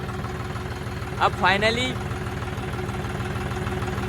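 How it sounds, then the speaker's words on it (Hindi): A tractor engine chugs in an even, pulsing low rhythm throughout, steady and moderately close, while someone speaks briefly over it. "भाई ट्रैक्टर के मजे ले रहे हैं, देख सकते हो आप।"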